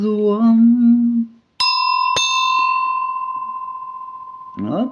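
A small antique 18th-century bell found in an old village is struck twice in quick succession, each a bright, close ring, then it hums on and slowly decays before a voice speaks at the end.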